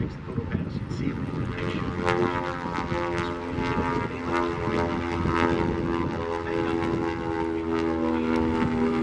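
A twin Beech propeller airplane makes a low photo pass in front of the crowd at Oshkosh AirVenture 2025. Its loud, steady twin-engine drone and propeller hum hold strong and continuous throughout the pass.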